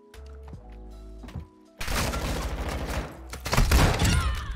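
Shotgun blasts in a first-person shooter video game: a couple of sharp thuds, then a dense burst of loud overlapping gunfire that swells again near the end, close and heavy with no voices.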